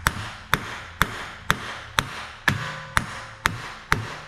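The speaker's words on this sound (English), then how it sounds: "we're just gonna press in on it and give it a few taps." Nine evenly spaced, sharp hammer taps on the bolt head of a new CV axle as it is seated into a VW Jetta transmission, close and clear, each a crisp metallic knock.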